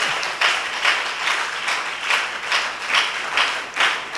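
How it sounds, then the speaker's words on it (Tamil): A church congregation applauds during a Sunday service, steady clapping that swells in regular waves about twice a second, filling the room for the whole stretch. "ஒரு கைத்தட்டல் கொடுங்க."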